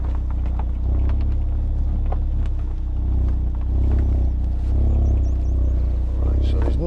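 Exhaust note of a 2017 Audi TTS 2.0 TFSI Black Edition S tronic quattro while driving, a steady low engine rumble with wind buffeting and bursts of talk over it.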